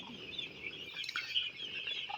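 Soft clucking and peeping of eight-day-old chicks, a steady chorus of birds close by with a brief louder chirp in the middle.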